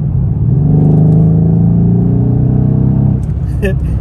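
Mercedes C63S AMG engine revving loud and close, a deep sustained roar with rich harmonics that holds for about three seconds, then cuts off abruptly into quieter background noise.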